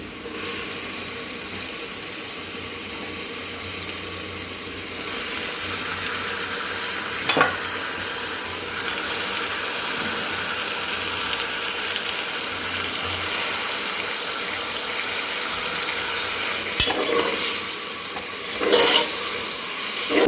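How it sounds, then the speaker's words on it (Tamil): Mutton pieces sautéing in a pan with already softened onions for a mutton curry, giving a steady close sizzle and fry hiss throughout, with a few brief clinks of stirring. "இப்போ வந்து நம்ம மட்டனை சேர்த்து கொஞ்சம் நேரம் வந்து வதக்கலாம்."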